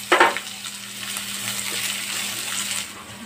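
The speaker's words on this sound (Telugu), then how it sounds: "ఉల్లిపాయ ముక్కలు వేసుకోవాలండి కట్ చేసి పెట్టుకున్న ఉల్లిపాయ ముక్కలు" Chopped onions drop into hot tempering oil with curry leaves and spices for a rajma tomato curry, giving a brief loud splash of sizzle followed by steady, close frying crackle; no speech.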